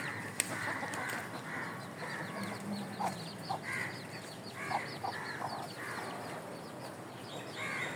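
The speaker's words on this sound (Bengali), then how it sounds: "গাছের ফাঁকে ফাঁকে মুরগির বাচ্চা" Young crested chickens cluck and peep among trees in a village garden, a scatter of soft, fairly distant calls repeating over a constant outdoor hiss, with no voices.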